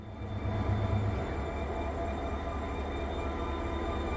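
A Korail Jeongseon Arirang tourist train's locomotive rumbles past close by, a loud steady roar of engine and wheels with a low droning hum, continuous and unbroken.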